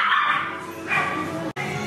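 At a dog café in Korea, a dog gives high yips and whimpering barks in a couple of bursts, fairly close, with a busy indoor background and a brief cut near the end.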